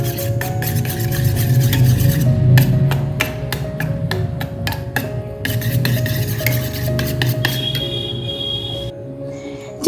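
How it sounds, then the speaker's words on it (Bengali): Sour yogurt whisked with a spoonful of sugar and a pinch of turmeric in a bowl, producing a steady, close scraping and tapping rhythm of quick strokes against the bowl, alone without talk. "1 চামচ চিনি দিয়ে ভালো করে টক দইটাকে ফেটিয়ে নেব।"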